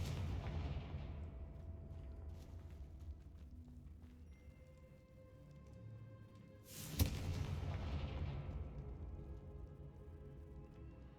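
Confringo fire spell in the video game Hogwarts Legacy bursting as a single sharp, bright explosion midway, following a low rumbling ambience and trailing off into a fading roar.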